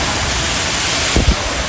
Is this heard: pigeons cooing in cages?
no